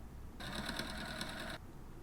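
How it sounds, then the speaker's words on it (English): Sewing machine running a steady stitch line along the edge of a cotton shirt sleeve, a single continuous rapid burst of about a second, close and clear, starting and stopping cleanly. "stitch on the machine and sew 1/4 inch from the edge of the sleeve"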